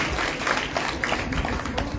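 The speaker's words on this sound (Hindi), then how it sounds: "एक बार जोरदार तालियों को स्वागत करेंगे अपने लिए" A crowd at a Shrimad Bhagavat Katha in Tajpur village, Delhi, claps steadily, a dense patter of many hands that holds at an even level for the whole stretch.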